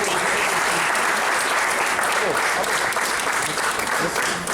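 Steady, dense applause from a crowd at a public gathering at a marketplace, sustained and fairly loud throughout with no break.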